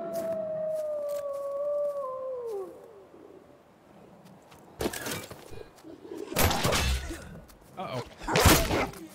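A dog howls in the video game First Class Trouble, a long wavering tone that slides downward over the first few seconds and fades, followed later by louder bursts of crackling game noise.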